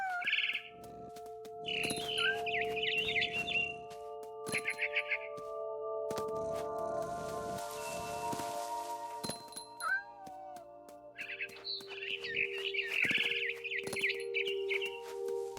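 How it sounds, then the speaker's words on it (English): A barn swallow in the What Remains of Edith Finch game chirps in quick bursts of high, bright twittering, separated by pauses with soft game tones and clicks underneath. "Then I heard chirping outside my window. It was a barn swallow going back to her nest."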